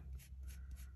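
Ink gently brushed down onto card in a straight across motion, a soft, quiet rhythmic rubbing with three or four broad strokes, close and alone.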